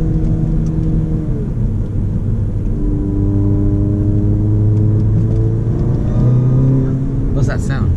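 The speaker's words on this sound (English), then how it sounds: "That's the turbo inlet pipe with the intake." A Volkswagen Golf engine pulls hard under acceleration, its turbo intake whooshing and droning steadily beneath people talking, with a sharp hiss near the end.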